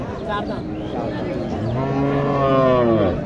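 Sindhi cow at a busy cattle market, giving one loud, close, drawn-out moo that rises and holds, with market chatter in the background.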